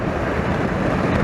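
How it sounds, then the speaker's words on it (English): Steady, dense roar of strong wind buffeting the microphone outdoors, constant and loud throughout with no other sound standing out. "Oh god, it's getting very windy."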